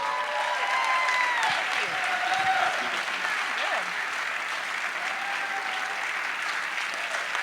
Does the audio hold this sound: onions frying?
no